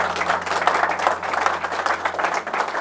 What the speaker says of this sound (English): I'll give myself a round of applause